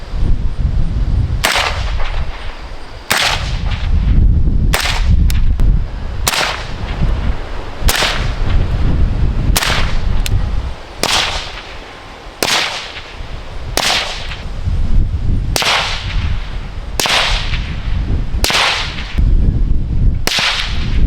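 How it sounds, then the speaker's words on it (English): A suppressed 5.56 rifle fitted with a Shaw Armament Systems Azimuth GRT 556 suppressor fires about fifteen loud, evenly spaced shots, each a sharp crack with the thud of the round striking a backstop at 100 yards, with no talking. "I definitely could hear rounds striking the backstop at 100 yards"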